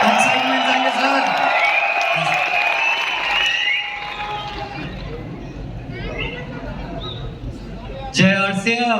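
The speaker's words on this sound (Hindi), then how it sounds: "तालियां चाहिए, सीटियां चाहिए, हुआ चाहिए, एक्साइटमेंट चाहिए सर" Audience at an RCM Diwas event in Bhilwara cheers and whistles in a sustained roar of voices, then fades to murmur before a voice speaks near the end.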